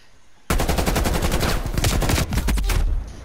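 Dense, rapid automatic gunfire from a Call of Duty Black Ops Cold War Hardpoint match erupts after a brief quiet moment and keeps hammering loudly and continuously for close to three seconds.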